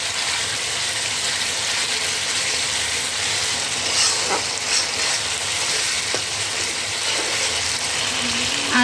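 Ginger and green chilli paste frying with garlic in a pan, giving a steady loud hiss of sizzling throughout with occasional faint clinks, close and continuous.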